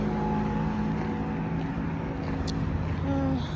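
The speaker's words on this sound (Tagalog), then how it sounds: "Marami na naman sasakyan." Road traffic at night in Saudi Arabia gives a continuous engine rumble and tire hum from passing cars, steady and fairly close, with no talk over it.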